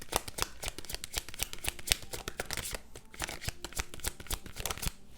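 Tarot cards being shuffled by hand up close to draw a clarifier card, a rapid run of crisp riffling snaps and flutters that continues without pause, with no talking.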